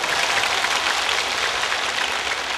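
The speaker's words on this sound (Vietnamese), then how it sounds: "Xin những tràng pháo tay thật nồng nhiệt" Loud, dense applause from a concert audience at an evening music show, filling the space for a singer and dance troupe, continuous and even throughout, with no voices on top.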